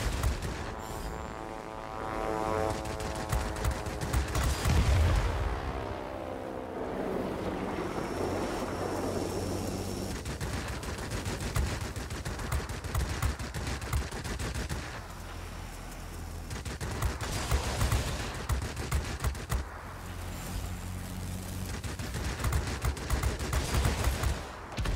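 Bursts of aircraft machine gun fire rattle in World of Warplanes during a Chance Vought F4U-4 Corsair dogfight, repeated clusters over steady engine drone and game noise.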